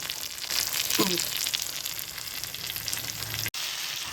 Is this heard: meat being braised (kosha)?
yes